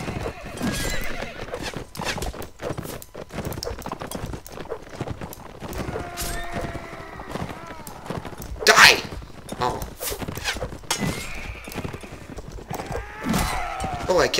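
Horses in the medieval combat game Mount & Blade: Warband, clip-clopping hooves and a loud whinny midway amid battle noise, with someone speaking over parts of it.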